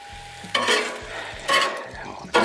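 Soy, oyster and hoisin sauce with a little teriyaki stirred on a hot Blackstone griddle, three loud scraping strokes about a second apart over a steady background sizzle.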